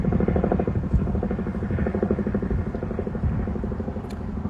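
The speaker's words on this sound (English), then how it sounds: "Even now, and I know there's helicopters" Helicopters flying overhead along a road produce a loud, steady rotor throb with a rapid pulsing beat that holds unbroken throughout, with no voices.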